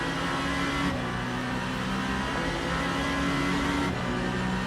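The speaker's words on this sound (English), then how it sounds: "this guy's in a hurry to overtake us" A Genesis GMR-001 hypercar in the Le Mans Ultimate racing game at Monza, engine droning loud and steady as another race car overtakes close by, no talking.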